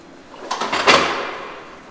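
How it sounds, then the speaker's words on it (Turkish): A front door being opened for arriving guests, a short close rattle and swish of the door moving, lasting under a second with a fading tail and no talk. "Ben kapıyı açayım isterseniz."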